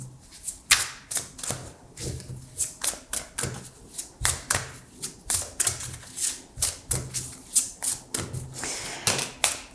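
Tarot cards shuffled and handled in steady repeated bursts of papery riffling and slapping, close and fairly loud, with no talking.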